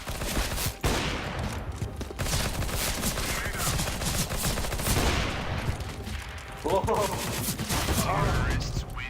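Rapid bursts of automatic gunfire in the video game CS:GO crackle almost continuously, dense and loud, with a few shouted voices mixed in.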